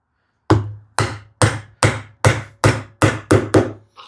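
Wood chopped by hand with a chisel during a hand-tool cupboard build, giving nine sharp, evenly spaced strikes about half a second apart, each loud and close with a short ringing decay, and no talking.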